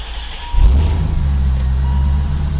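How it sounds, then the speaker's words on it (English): A C4 Corvette's L98 engine with a fuel pressure leak-down hard-start problem turns over and starts after a moment, then runs at a steady, close, rumbling idle. "But the car's starting right up."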